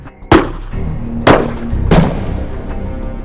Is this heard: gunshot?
yes